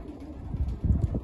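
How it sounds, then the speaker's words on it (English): A top breeder pigeon in a loft gives low, soft coos in a few pulses close to the microphone, over a little wind noise. No one speaks. "This pigeon is the top breeder in my loft."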